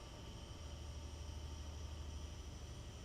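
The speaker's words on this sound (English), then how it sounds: "I hear a HST." An HST high speed train in Train Simulator 2019 gives a steady, continuous diesel rumble with a constant hiss and whine above it, holding an even level throughout.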